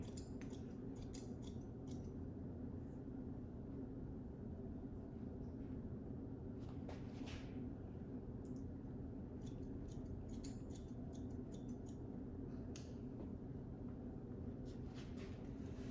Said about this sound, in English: go in with my shears closed, lift that hair up. And we're just deep parallel point cutting